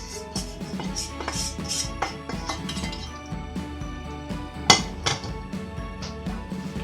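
Buttered biscuit crumbs tipped from a bowl into a dish for a no-bake cheesecake base, with scattered clinks and knocks of utensil against crockery, one sharper tap partway through, no talking.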